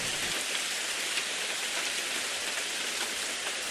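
Heavy rainy-day downpour pours steadily on a village home, a dense unbroken hiss with no voices over it.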